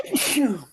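A single sharp sneeze from one person, close and loud, with a burst of breath that fades quickly.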